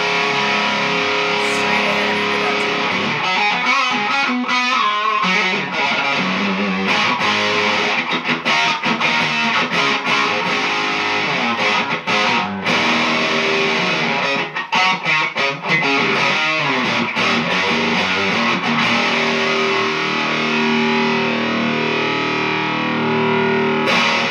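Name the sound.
electric guitar through Turbo Overdrive DS2 pedal, turbo off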